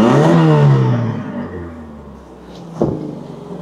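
An old Toyota Corolla 4WD engine, run after sitting parked for 16 years, revs loudly and winds down, then idles roughly with a slight exhaust leak and a brief clattering blip near the end.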